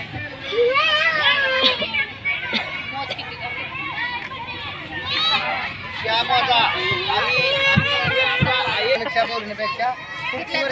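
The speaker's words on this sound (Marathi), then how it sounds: "गर्दी वाढायला लागली आता बाजारात" Busy crowd hubbub at an outdoor market stall, with children's voices and lively chatter filling the air steadily throughout, close and fairly loud.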